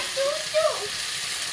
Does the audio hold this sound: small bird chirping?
no